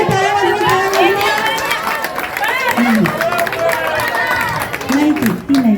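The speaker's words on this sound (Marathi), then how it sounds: "टाळ्या वाजवा, टाळ्या वाजवा, टाळ्या वाजवा" Children clap their hands during an outdoor running game, with scattered claps under loud excited voices and shouting that dominate throughout.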